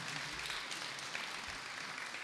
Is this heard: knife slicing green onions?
no